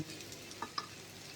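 Olkopi curry sautés in a pan: a soft, continuous frying hiss broken by a couple of sharp spatula scrapes and taps, heard up close with no talking.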